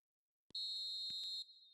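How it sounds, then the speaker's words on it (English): A referee's whistle in the eFootball 2025 football video game, one sustained shrill blast lasting about a second, loud and clear after a short thump. "Referee looks at his watch and blows his whistle"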